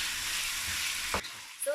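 Zhajiang noodle sauce frying and thickening in a wok, a steady close sizzle with a brief stirring scrape near the end.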